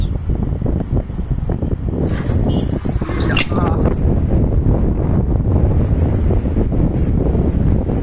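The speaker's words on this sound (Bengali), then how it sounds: "অনেক বাতাস।" Loud, continuous wind buffeting the microphone, a heavy low roar that barely lets up, with faint higher whistles briefly rising above it.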